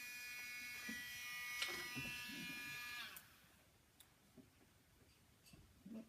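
Dremel rotary tool grinding a dog's nails: a close, high electric whine runs for about three seconds and then cuts off, leaving faint ticks and small handling sounds.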